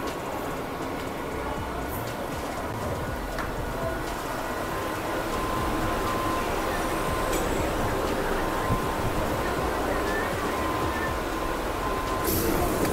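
Nearly empty Mumbai local train riding, a steady rumble and rattle of wheels and carriage throughout, close and continuous with no talk.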